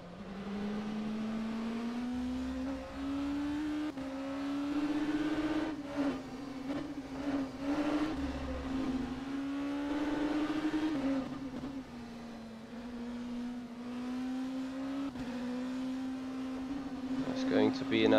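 An LMP2 race car in the rFactor 2 sim racing game drives a lap, its engine note rising and falling through gear changes over about eighteen seconds, while a person talks intermittently over it.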